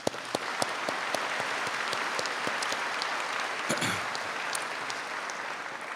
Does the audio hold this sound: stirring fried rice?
no